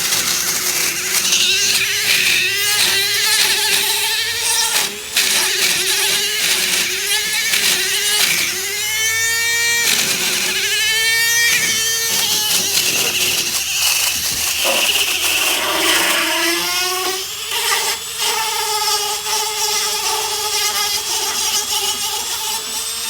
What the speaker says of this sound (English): So all we want to do is just grind this lip down